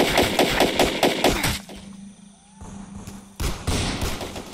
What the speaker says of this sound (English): I will lay down suppressing fire for my teammates. Let's move. Machine guns out.